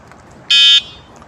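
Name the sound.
electric bicycle horn beeping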